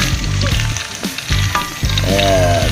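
Food sizzles and crackles steadily in a hot pan, with bursts of clattering and scraping from stirring and a voice speaking briefly over it.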